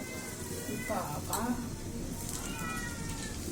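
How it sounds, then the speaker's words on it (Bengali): A cat meows a few times indoors, fairly faint, in a home kitchen while people talk nearby. "বিলাই"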